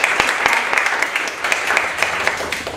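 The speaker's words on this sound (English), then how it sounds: "can we just give her a round of applause?" An audience at a young adult Toastmasters club meeting applauds, a short burst of many hands clapping at a brisk, even rate, close and fairly loud with a faint voice underneath.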